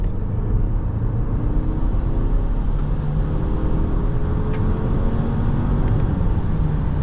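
A 2021 Volvo V60 T6 AWD Recharge Inscription with a 2.0-litre inline-four, 340 to 345 horsepower, accelerates hard, a steady loud engine and road roar with a rising whine, heard from inside the cabin.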